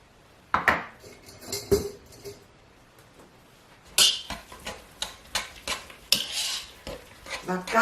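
Cooked potatoes for a Thanksgiving meal are mashed with a wire whisk in a pot, with a quiet start, then a run of sharp rhythmic metal clanks and squelching strokes, close and loud, without voices.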